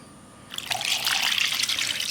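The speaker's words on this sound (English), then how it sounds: "After you wash the fish, you need to add some water" Water poured from a tap into a bowl of washed fish pieces for a Sri Lankan red fish curry; after a quiet start, a steady, close splashing stream begins and continues to the end.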